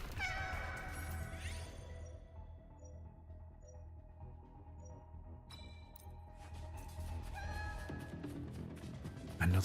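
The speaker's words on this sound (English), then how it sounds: "Another cat." A cat meowing in the video game Wuthering Waves, several clear, fairly close mews spread across the span, with quieter game ambience and chimes between them.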